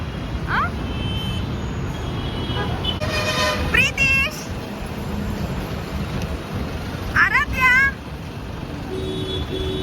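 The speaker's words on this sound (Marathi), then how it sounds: "इकडून गाडी येणार आहे आणि इथे उतरणार आहे" Busy road traffic with vehicles passing and a couple of short horn toots, while people talk nearby.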